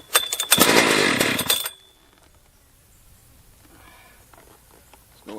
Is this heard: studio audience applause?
no